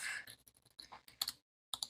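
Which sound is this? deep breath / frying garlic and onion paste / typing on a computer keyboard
typing on a computer keyboard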